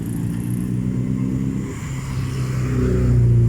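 Steady road traffic on a quiet street in Cabuyao, Laguna, with cars and motorcycles passing. Engine drone and tire rumble carry throughout, and a louder vehicle swells near the end. No one speaks.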